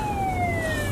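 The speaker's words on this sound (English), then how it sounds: "Oh, there's another police car." A police car siren wails in a steady, slowly falling tone, close and loud over continuous low road rumble, with no talk.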